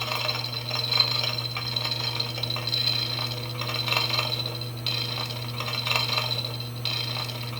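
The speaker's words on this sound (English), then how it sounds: "the spout does lower by itself, and you hear the water" A model railroad water tower accessory plays its built-in water effect, a steady rushing, trickling hiss with a constant low hum underneath, running evenly and fairly close throughout.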